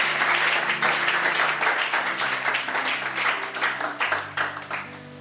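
Congregation at a church vigil in Cocody applauding and cheering the Lord, dense sustained clapping with crowd voices throughout, loud and close, with sustained musical tones underneath.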